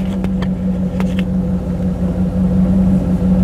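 A warmed-up 305 TPI V8 in a third-generation Camaro idles in neutral at about 700 rpm, a steady close rumble with an even low throb and a few light clicks over it.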